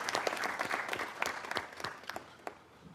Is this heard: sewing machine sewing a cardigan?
no